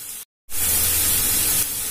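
Onions sautéing in a pan for chicken curry give a bright, steady frying hiss, cut by a brief silent gap near the start and then continuing loud and even.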